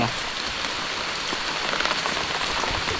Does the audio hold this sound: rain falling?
yes